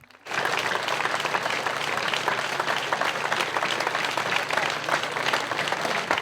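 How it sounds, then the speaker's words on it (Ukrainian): Sustained applause from a large crowd at a funeral, steady and dense, starting abruptly and continuing at an even level throughout. "В останню путь Юрія проводжали оваціями."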